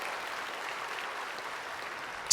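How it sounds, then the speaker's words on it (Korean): Applause from a church congregation fills the space as a steady, even patter of many hands clapping, moderately loud and slightly distant, with no talk over it. "이럴 때는 박수 한번 해줘야 되는데"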